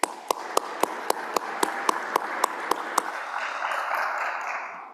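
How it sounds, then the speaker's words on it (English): Applause for law journal editors at a spring law journal symposium, heard as a dozen evenly spaced sharp claps in the first three seconds, then fading into a broad, soft room wash with no talk. "Let's give them a round of applause."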